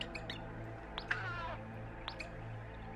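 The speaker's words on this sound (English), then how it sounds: "Extremely digitized cat sound." A digitized cat meows in the video game Gato Roboto, two short electronic meows a second apart, faint over a low steady background hum.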